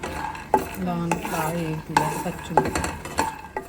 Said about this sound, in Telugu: ఇంకా మనం స్టవ్ని అడ్జస్ట్ చేసుకుంటూ లో ఫ్లేమ్లో ఉంచుకొని పల్లీలను అన్నది వేయించుకోవాలండి